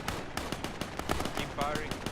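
Video game gunfire aimed at a contact: rapid bursts of sharp shots in quick succession, fairly close, with a voice talking over parts of it.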